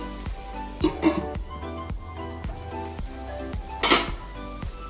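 A lid clinks down onto a cooking pot of spiced colocasia stolons, giving a few sharp metallic knocks and rattles over a faint, low sizzle in a quiet kitchen.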